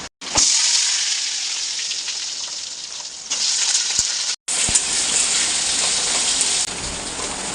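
Dried red chillies and a bay leaf sizzle in hot oil for a Bengali tempering, a steady loud hiss of frying with a brief break partway, no voices over it.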